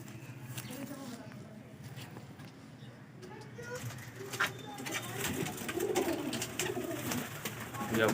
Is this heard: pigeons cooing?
yes